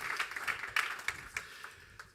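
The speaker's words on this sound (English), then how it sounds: "Please give him a round of applause." An audience claps for Professor Christoph Frei at a St. Gallen talk event: scattered, fairly faint applause with distinct individual claps that thin out toward the end.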